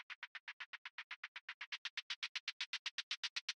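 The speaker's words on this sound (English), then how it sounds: "The next track is a shaker as well, which is being filtered in for the last quarter of the track so far" A shaker in an electronic track, filtered in for the final quarter, plays a rapid, even stream of about two dozen short bright shakes that grow gradually louder, alone with no voices.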